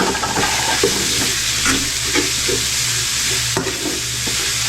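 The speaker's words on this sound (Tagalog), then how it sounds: "Tapos lagay tayo ng sibuyas sa bawang. Sabay na natin yung sili." Onion, garlic and chili sizzle steadily in a hot frying pan while being stirred, a continuous close hiss with scraping stir strokes and faint clatter throughout.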